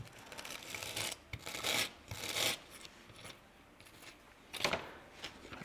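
Abrasive brushing and rasping along freshly cut edges of a scratch-built bell tower model for a fantasy gaming board, in several short scratchy bursts with quiet gaps, close and fairly soft.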